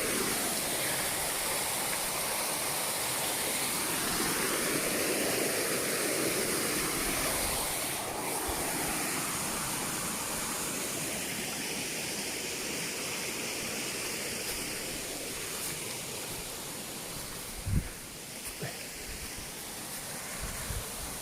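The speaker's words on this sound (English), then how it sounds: "Another little waterfall, this time in the forest right near the small ferry." Steady rushing roar of a small forest waterfall in the northern moors of a Scottish isle, continuous and close, with a couple of faint knocks near the end.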